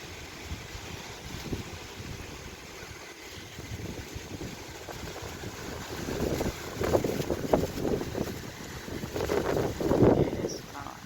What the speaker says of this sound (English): Wind still blowing.